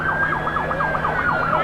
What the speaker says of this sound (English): we hear these sirens